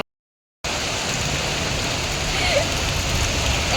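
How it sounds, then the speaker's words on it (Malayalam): Steady rain falling outdoors at a house in Kerala, a dense even hiss starting after a brief silence and continuing throughout. "മഴയാണ്,"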